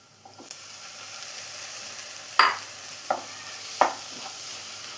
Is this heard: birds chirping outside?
no